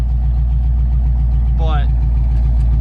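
A derby car engine idles steadily with a low, even rumble throughout, running a little rich, while a person talks briefly over it.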